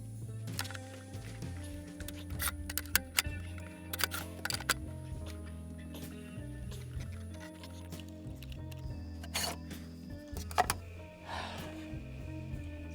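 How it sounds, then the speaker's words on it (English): Sharp clicks and clunks as hard drives are pulled from a Mac Pro server, among them three 1 TB Western Digital drives and a 320 GB drive. The knocks come close and irregular over steady background music. "Let's pull out the hard drives."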